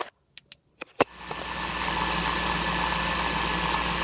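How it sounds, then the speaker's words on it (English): A 1991 Fleetwood Southwind motorhome engine starts after a few clicks and a brief crank, then settles into a steady, close-up idle with a low rumble and broadband hiss. "Okay, the engine's running,"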